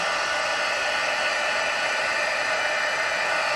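Steady broadband whoosh of a heat embossing tool's fan blowing hot air from underneath a card to melt embossing powder, constant and close throughout with no talk.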